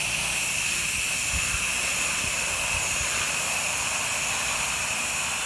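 A pressure washer rinses a house with a soft wash technique, a loud constant hissing spray that runs unbroken throughout with a dull low rumble beneath.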